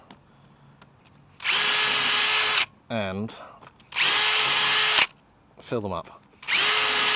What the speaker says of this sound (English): So I'm going to just drill out these